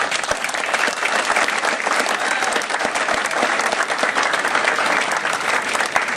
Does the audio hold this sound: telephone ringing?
no